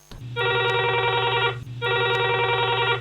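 An electronic telephone ring sounds during a radio phone-in show on coconut farming, two long loud trilling bursts separated by a short pause, with no one speaking over it.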